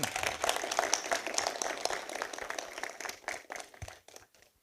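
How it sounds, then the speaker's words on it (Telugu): An audience at a film event claps together, a dense, steady patter of applause that gradually thins out and fades away near the end. "అందరూ చప్పట్లు కొట్టున్నారు సార్"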